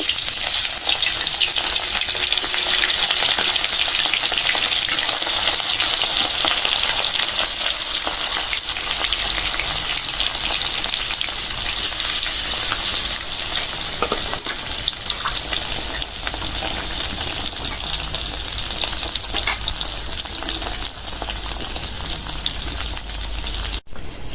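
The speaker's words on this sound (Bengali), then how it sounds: "তেলটা গরম হয়ে গেছে দিয়ে দিলাম ইলিশ মাছ" Hilsa fish frying in hot oil, a loud, dense and steady sizzle that holds unbroken for the whole stretch with no voices.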